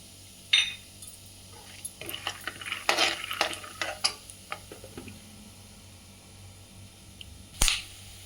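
A spoon stirs and scrapes peanuts frying with cumin in a metal pan, with scattered clinks and rattles in short bursts, a sharp knock at the start and another near the end, no talking.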